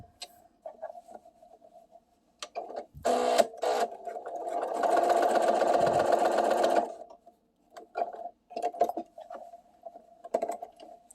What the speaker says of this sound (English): I just sew around my edges, as close to the edge as I can get